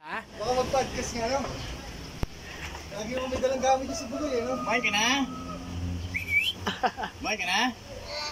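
A person whistles short, rising and falling calls, repeated several times, with voices talking around and between them.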